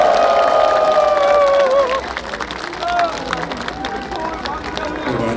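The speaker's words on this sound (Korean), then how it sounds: "뜨거운 박수 부탁드립니다." A crowd at an outdoor rally and mass in Gwangju's 5·18 Democracy Square claps and cheers loudly, with a raised voice ringing over the noise at the start before the applause settles into steady clapping.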